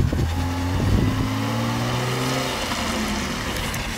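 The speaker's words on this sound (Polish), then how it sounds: "Dobra, bo z lewej ci jedzie auto" A passing car drives by from the left on a street at a drifting practice session, its engine hum loud and steady with a droning low tone that shifts as it goes.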